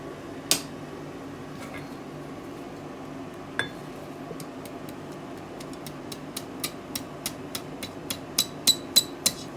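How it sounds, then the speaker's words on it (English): While a fire steel is being forged, a hammer curls the steel over the edge of an anvil. A sharp strike is followed by a run of light, ringing taps that come faster and louder toward the end. "the way I do that is over the edge of the anvil with the hammer"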